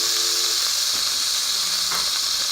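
Steady loud sizzle of ground beef juices hitting a hot pan while cooking baked spaghetti, a continuous bright hiss with faint crackles and no talking.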